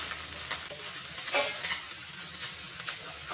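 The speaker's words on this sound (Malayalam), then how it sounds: "ഫ്ലെയിം മീഡിയം ടു ലോ ഫ്ലെയിമിൽ വെച്ച് നന്നായി ഇളക്കി ഇത് നല്ല ബ്രൗൺ കളർ ആവുന്നതുവരെ ഫ്രൈ ചെയ്തെടുക്കാം." Chopped shallots and curry leaves fry in coconut oil over a medium-to-low flame for a Kerala-style buffalo tongue roast, giving a loud, steady sizzle broken by scraping stirs, up close with no voices.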